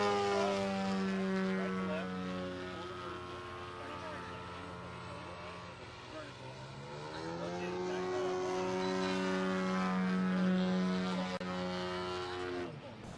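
An RC model airplane flies with a propeller motor, giving a steady whining, harmonic drone that rises and falls in pitch as it passes through manoeuvres. It is fairly distant and continuous, and a voice talks over it.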